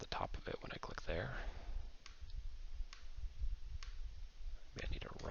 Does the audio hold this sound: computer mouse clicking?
yes